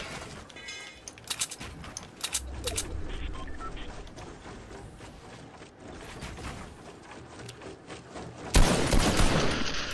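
Scattered video game gunfire during an online shootout, with sharp shots and short bursts at varying distances, a heavy louder volley near the end, and players' voices talking over the action.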